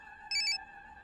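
A short electronic phone ring sounds once, a single bright warbling burst lasting about a quarter second over a steady background hum, with no voices during it.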